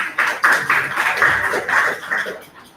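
Students in a classroom clap for classmates, a brief burst of uneven hand claps from a small group, loud and close, tapering off after a few seconds.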